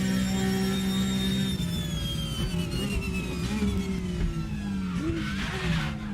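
A Porsche race car in the sim racing game RaceRoom Racing Experience drones steadily at high revs, its engine pitch sliding slowly downward and rising again, loud and continuous throughout.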